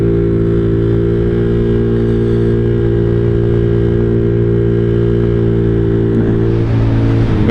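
A 2011 Honda Zoomer 50cc scooter engine drones steadily at full throttle, a loud, close, continuous buzzing hum with a constant pitch and no talking.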